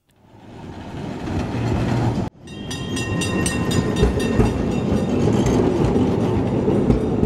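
A tram rumbles along steadily with rhythmic clatter of wheels on track, loud and continuous after a brief cut near the start.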